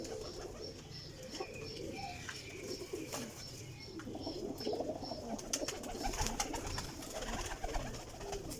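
A flock of golden pigeons coos steadily nearby, soft repeated calls overlapping with scattered chirps and wingy rustles against a busy outdoor background.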